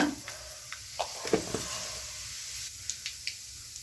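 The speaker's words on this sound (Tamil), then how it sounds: "தாளிக்கிறதுக்கு கொஞ்சோண்டு சோம்பு போட்டுக்கலாங்க" Fennel seeds crackle and sizzle in hot oil for tempering a prawn gravy, with sharp little pops scattered over a soft background hiss, close by and without talk.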